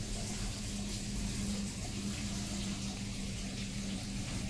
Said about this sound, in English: the water is flowing through the holes in the rubber tube to water the plants